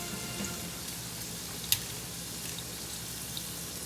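Bacon sizzles in a frying pan with a steady, dense crackling hiss, close and even throughout, with one brief sharp pop.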